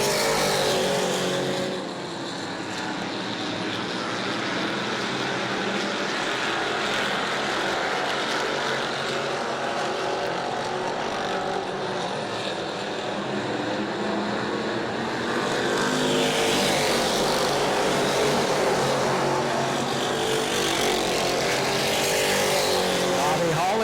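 Super stock race cars roar around the New Smyrna oval, a loud continuous engine drone that swells as cars pass close, heard under a race commentator's voice.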